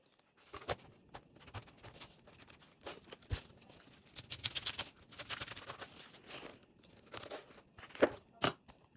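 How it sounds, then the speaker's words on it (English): Large knife sawing through a whole pineapple to halve it, making close, crunchy, fibrous tearing and crackling in uneven bursts, with a few sharper snaps near the end. "So I'm going to use a very large knife and cut this directly in half."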